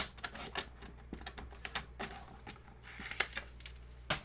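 Craft paper being trimmed to length makes faint, quick clicks and short scraping snips at an uneven pace, with no talking.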